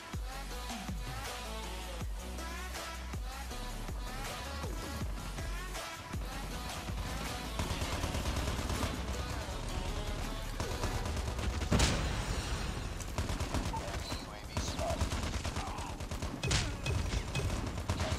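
Rapid bursts of gunfire crackle through a dense, busy mix of Call of Duty Mobile sound effects and explosions, continuous and fairly loud, with no clear talking.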